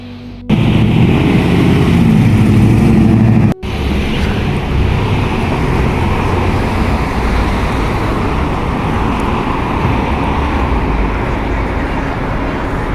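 Steady road noise from traffic on a downtown Calgary street during a Halloween trick-or-treat event, a continuous rumble of a car passing nearby with a brief cut partway through.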